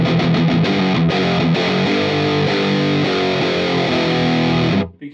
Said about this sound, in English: you can still hear the clarity of the distortion through it